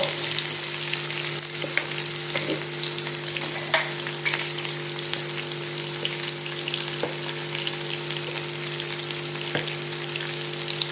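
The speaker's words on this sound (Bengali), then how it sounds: "শালগমগুলি লাল লাল করে ভাজা হতে হতে এখানে আমি কিছু পেঁয়াজ কুচি এখানে দিয়ে দিয়েছি" Turnips and chopped onions fry in a pan with a constant loud sizzle and occasional small clinks and stirring sounds, steady throughout with no voices.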